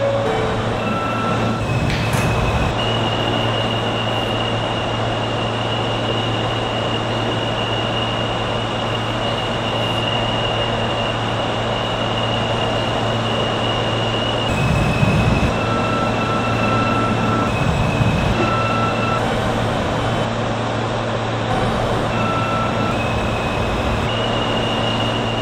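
A Roblox game's simulated New York City subway R160 R train rumbles steadily with a low hum and squealing wheel tones, running continuously and loud, with occasional clunks as it moves along the track.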